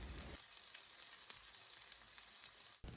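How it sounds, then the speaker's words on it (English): Onions sizzle in hot oil in a pan for a vegan soya chunk curry, giving a steady, close frying hiss with small crackles throughout. "you add the onion, you can mix everything well and leave until onions get halfway through"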